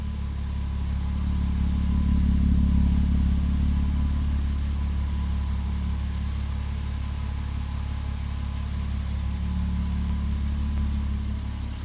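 A Porsche Boxster 986 engine runs steadily at idle, a continuous low rumble with a faint hum, swelling slightly near the start and holding even after, with smoke burning off the engine.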